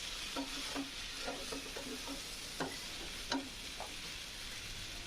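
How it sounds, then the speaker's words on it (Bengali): Fried rice with egg, vegetables and shrimp stirred in a pan, a quiet steady sizzle under a string of light spatula scrapes and taps against the pan. "ভালোভাবে নাড়াচাড়া দিয়ে মিক্স করে নিলাম"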